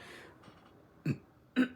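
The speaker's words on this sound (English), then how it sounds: "I had like a little baby burp" A small, soft burp, then a second short one a half second later, both faint and close, with quiet room background in between.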